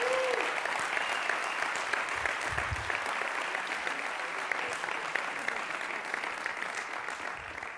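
Sustained applause from a business school audience honoring student clubs: many hands clapping in a thick, even roar that holds steady from start to finish, close and full.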